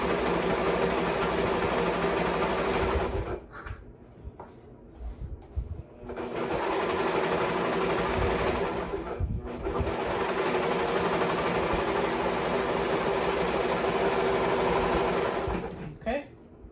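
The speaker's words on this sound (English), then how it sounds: "Serger is cutting the thread out to make it a clean cut." Serger sewing machine stitching and trimming dress fabric: a loud, steady, close mechanical whirr in two long runs separated by a brief pause, ending with a short stop near the finish.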